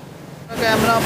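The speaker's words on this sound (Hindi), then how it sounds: "पानी का कितना ज़्यादा शोर है इसमें" Loud rushing water at the Head Marala headworks swells into a broad, roaring wash partway through the clip, close and strong, after a quieter murmur.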